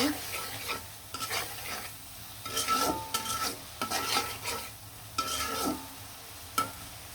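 Spices are stirred into shrimp and onions frying in a pan for a taro-stolon curry. A spatula scrapes in repeated strokes over a constant sizzle, with no voices.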